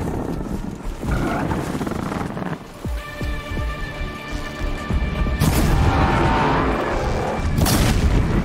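In the Horizon Zero Dawn Frozen Wilds DLC, a Frostclaw machine creature lets out heavy, booming roars amid impacts and combat noise, loud bursts rising twice over a rumbling game soundtrack.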